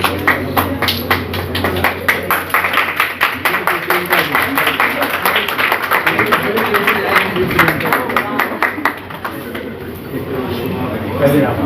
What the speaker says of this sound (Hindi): जोरदार तालियां हमारे ऐसे मुख्य अतिथि के लिए